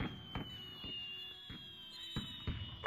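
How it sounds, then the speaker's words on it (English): Fireworks sound effects in the VRChat video game: a string of sharp pops and thumps at a fairly steady rhythm, with quieter crackle between bursts and no talking. "Just press it once, there's fireworks."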